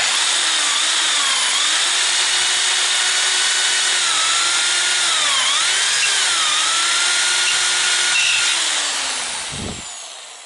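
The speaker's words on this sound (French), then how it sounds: "il faut que je commence par percer à leur centre les 3 vis" A power drill bores out the door hinge screws on a Citroën Traction 11B, its motor whining steadily for several seconds with small pitch dips as it bites, then winding down with a brief knock.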